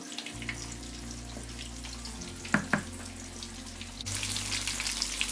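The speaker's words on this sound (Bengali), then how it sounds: "এখন এটা আরও 5 মিনিট চুলায় বয়েল হওয়ার পর আমি নামিয়ে নেব" Masoor dal simmering in a pot on the stove, a close bubbling hiss with a couple of brief knocks midway and a brighter, louder wash of sound toward the end, with no voices.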